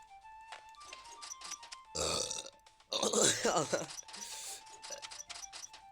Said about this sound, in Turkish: Yanlışlıkla geğirdim